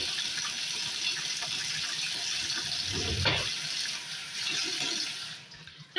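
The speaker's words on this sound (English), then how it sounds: "I am going to get some water." A kitchen tap runs steadily in a home kitchen during meatloaf preparation, a continuous hiss of flowing water with a brief splashier gush midway before it shuts off.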